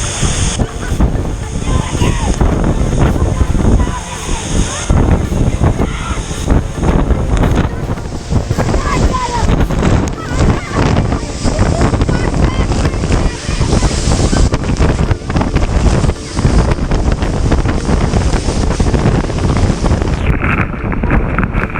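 Viento Fresco waterfall in Guanacaste, Costa Rica crashes loudly and continuously, mixed with heavy wind buffeting on the microphone throughout.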